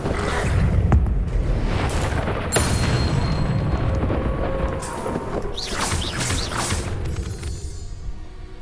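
The Incendio fire spell goes off in the video game Hogwarts Legacy with loud booming bursts and a roaring whoosh of flame, followed by crackling, sparkling magical tails that fade out.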